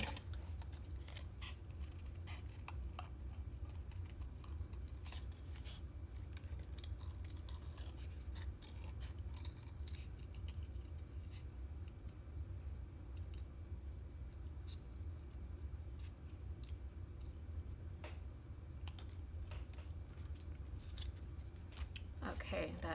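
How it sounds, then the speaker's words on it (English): Scissors snip steadily through cardstock while fussy cutting around a stamped sentiment for a handmade birthday card, with soft irregular cuts and scrapes set low under a constant background hum. "I'm going to fussy cut the sentiment real quick."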